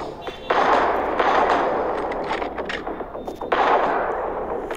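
Gunfire in a shooting video game, a dense, loud stretch of rapid shots with brief breaks, while someone talks over it.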